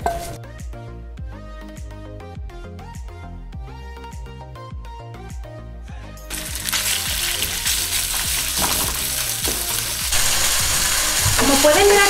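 Beef steak hits a hot oiled pan and breaks into a loud, full, continuous sizzle that swells over several seconds, following a stretch of music alone.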